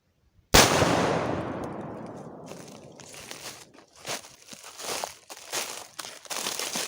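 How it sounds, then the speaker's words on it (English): A single loud, close gunshot from an 1847 Colt Walker black-powder revolver fired at a tree outdoors, a sharp blast with a long decaying roar, followed by scattered crunching and rustling sounds. "now I'm going to shoot that tree"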